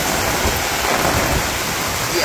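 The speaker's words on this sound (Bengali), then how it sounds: "খুব ঝড় বৃষ্টি শুরু হয়েছে, তুমুল বেগে নামছে বৃষ্টি" Heavy rain pours steadily during a thunderstorm at a flooded village home in Bangladesh, a dense continuous wash of noise with no distinct thunder crack standing out across the short stretch.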